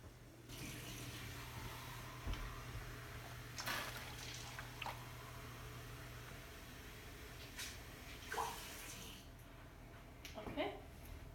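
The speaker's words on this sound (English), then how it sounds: "you're gonna fill each can with some water" Tap water running into empty cans for making cheap tomato soup at a home kitchen sink, a steady splashing flow with a few clinks and gurgles, faint and broken up, while someone talks quietly.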